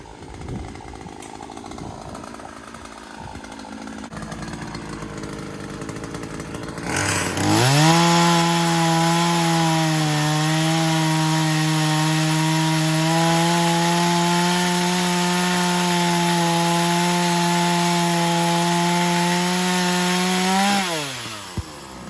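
A chainsaw cuts through a dead tree branch for firewood outdoors: it starts up, then holds a loud, steady buzzing whine for about fourteen seconds before cutting off.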